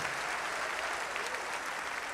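Congregation applause at an evening church men's conference, a steady, dense wash of clapping from many hands throughout, fairly soft and with no speech over it.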